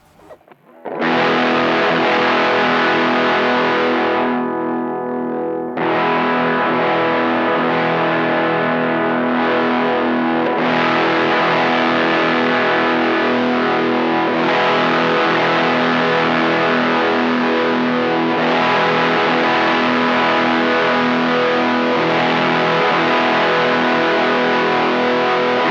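Electric guitar played through a Maxon OD-02 overdrive pedal with its drive knob turned up. Sustained, distorted chords ring out loud and steady, with one brief dip, and no talking.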